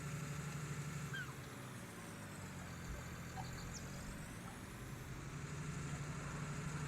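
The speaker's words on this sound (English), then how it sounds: "And then I'll just take that other tractor back over to the other field." A tractor engine in a farming video game runs at a steady, moderate idle with a low continuous rumble throughout, fairly faint and unbroken.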